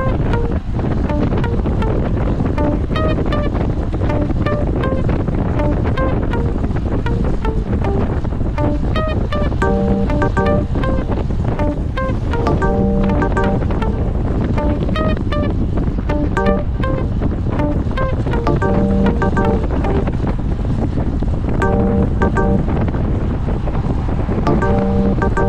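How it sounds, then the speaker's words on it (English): Heavy wind roars across the microphone throughout an outdoor group road bike ride on a level road. The constant, loud buffeting covers everything else, with no talk heard. "Wind is picking up, the road has leveled off."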